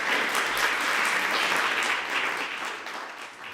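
Conference audience applause after a talk on Ukraine governance, sustained even clapping from a hall full of people, steady at first and tapering off near the close.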